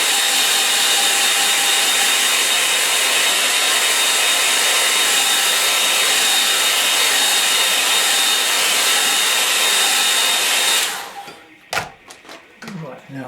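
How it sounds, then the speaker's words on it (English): A hair dryer blows steadily and loudly for about eleven seconds, then cuts off, leaving a few soft clicks and handling noises. "I can hasten that process with my little hairdryer."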